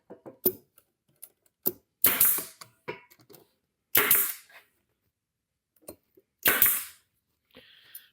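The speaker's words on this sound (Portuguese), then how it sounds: "Embora eu esteja grampeando, depois eu ainda vou pôr parafusos." A staple gun drives staples into wooden planter crates being built for a small home vegetable garden: sharp, isolated snaps at irregular intervals, separated by quiet handling noises and shuffling.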